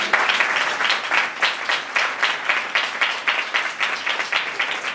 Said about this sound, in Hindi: बरोबर ताली